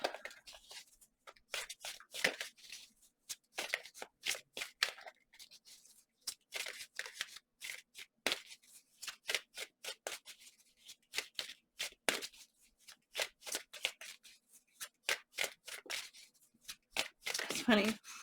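Tarot cards being shuffled by hand in a long run of crisp riffling and flicking bursts, close and fairly quiet, with a soft voice talking in places.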